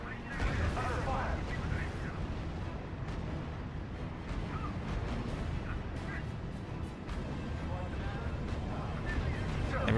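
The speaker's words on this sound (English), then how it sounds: "they've got rocket arty over there" Rocket artillery fire in the strategy game RUSE, a dense continuous rumble of launches and distant explosions, with radio-style voices speaking throughout.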